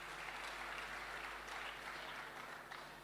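A church congregation applauding after a scripture reading, a steady wash of clapping from many hands that holds for a few seconds and begins to fade, no talking over it.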